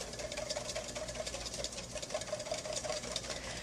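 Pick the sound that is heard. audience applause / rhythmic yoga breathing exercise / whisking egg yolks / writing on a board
whisking egg yolks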